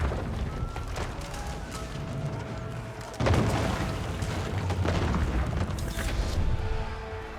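Units in Age of Empires 4 bombard the Royal Institute building with a dense, continuous rumble of booms and crashing impacts, which swells louder partway through and keeps going to the end.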